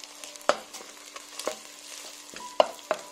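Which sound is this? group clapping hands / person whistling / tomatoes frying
tomatoes frying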